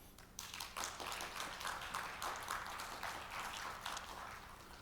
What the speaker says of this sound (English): Let us give a big applause to him.